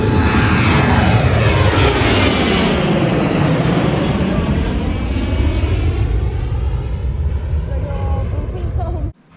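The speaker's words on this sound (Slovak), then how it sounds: "Dokonca nad nami preletelo práve vzlietajúce lietadlo." Airliner climbing just after takeoff from a nearby airport and passing low overhead, a loud broad roar filling the whole span with a sweeping Doppler shift, fading slightly near the end before cutting off.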